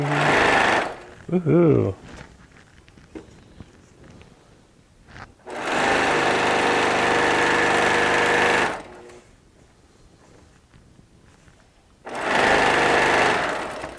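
Sewing machine stitching along a quilt seam in Tula Pink charms and strips, running in three loud sustained bursts separated by pauses, with a voice and a cheer in between.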